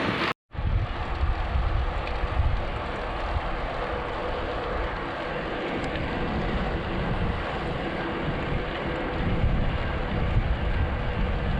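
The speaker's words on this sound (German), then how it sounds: "Heute ist es relativ leicht windig" Loud, constant wind roar buffets the microphone while riding an AZUB Ti-Fly X recumbent e-bike with a Shimano STEPS E8000 motor along the Kinzig river, a dense rushing noise that never lets up.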